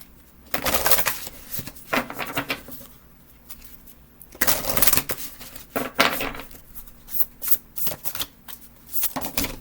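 Tarot cards shuffled by hand in repeated riffling bursts with short pauses between, close and crisp, with no talking.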